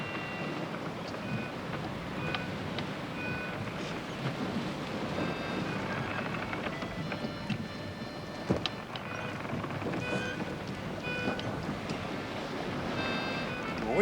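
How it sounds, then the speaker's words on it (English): Wind blows steadily at sea aboard a sailing ship, a constant broad rush with surf and creaking underneath, while people talk briefly over it. "The wind's freshening."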